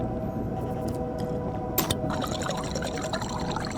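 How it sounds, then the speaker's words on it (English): Drinking water in the Stationeers video game on Europa: a steady pouring, gulping liquid sound, close and moderately loud, with a brief sharp click partway through. "Hydration critical just as I was drinking water."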